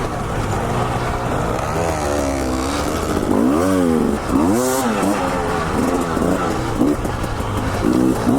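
A 2019 Husqvarna TE300i dirt bike engine screams through sharp revs, its pitch swooping up and down in quick bursts over a constant loud buzz, heard close and alone.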